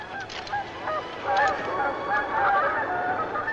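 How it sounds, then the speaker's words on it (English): A flock of geese honks repeatedly at a moderate distance in an outdoor valley, overlapping calls rising and falling over faint background noise. "Those geese are smart."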